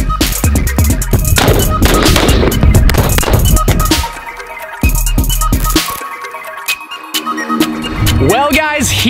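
Weapons fired at a military edition Rezvani tank, with loud rapid bursts of gunfire crackling close by and fast repeated shots that pause before a whining, rising mechanical sound near the end.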